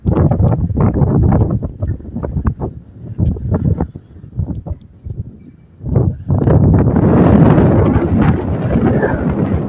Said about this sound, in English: Here comes another big old burst of wind.